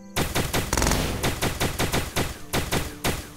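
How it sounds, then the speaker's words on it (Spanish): Rapid automatic weapon fire from the video game Starbound, a loud, steady burst of sharp repeated shots at an even rhythm, close and alone without talk. "Me gusta que la explosión del arma no rompa el terreno."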